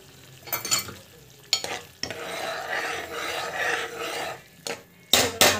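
Okra in tamarind curry stirred in a pot, with scraping, rasping spoon strokes and a sizzling, bubbling bed underneath, broken by several louder clanks against the pan, close and without talk.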